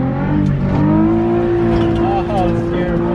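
A stock drift car does a one-wheel peel, its engine revving steadily while a single tire spins, loud and close, with voices talking over it.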